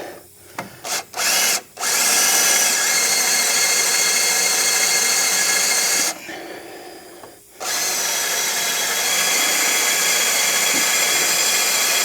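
Power drill boring through a ball joint rivet on a 2006 Pontiac Torrent, a few short trigger bursts, then a long loud sustained whine that pauses briefly and resumes to the end.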